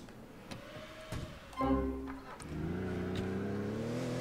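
A Comet sports car in GTA The Ballad of Gay Tony starts up and revs: a few clicks, a sharp burst of engine roar, then a steady idle that holds to the end, with no voices.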